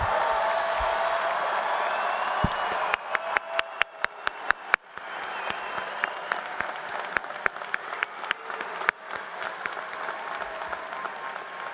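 Graduation crowd at a spring commencement for an agricultural sciences college gives the graduating class a sustained round of applause, dense at first, then thinning into scattered, distinct individual claps toward the end.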